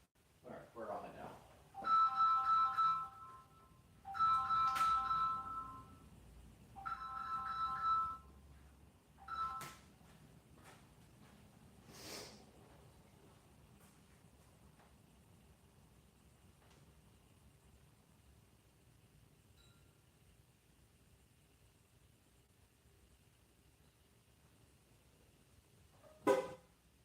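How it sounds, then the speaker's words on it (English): A phone rings in a studio setting, about four clear electronic rings in quick succession, each a bright repeating tone, followed by a long stretch of quiet room noise and a few soft clicks. "All right, phone ring."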